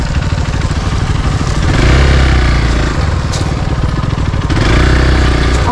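A Hero XPulse 200 motorcycle rides an off-road enduro trail, its single-cylinder engine droning loud and close with rising and falling revs and rattling clatter over rough ground.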